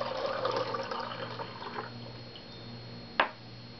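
Water poured through the air from one container into another, a soft splashing stream that fades over a few seconds, followed by a single sharp drip or clink near the end, with no talk.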